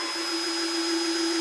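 A power drill drives pocket hole screws while an entertainment center is assembled, giving a steady, high motor whine that holds at an even level without pauses.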